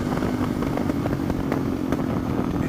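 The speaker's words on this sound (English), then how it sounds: "You just get this constant like popping out of the exhaust pipe" A motorcycle fitted with an aftermarket muffler crackles and pops from the exhaust pipe as the throttle snaps closed, a close, rough engine rumble punctuated by a quick, irregular series of sharp pops.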